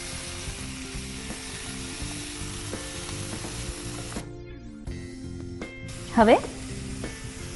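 Boiled green peas and spinach sautéing in an open pan, a steady soft sizzle and stirring throughout, with a brief louder scrape near the end and a short spoken word.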